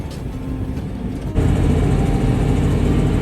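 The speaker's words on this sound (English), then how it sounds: "Dad just showed up and is running the AGCO, the small tractor, around the trees" A small AGCO tractor runs around trees on a farm, a low engine hum that jumps to a louder, steady rumble partway through.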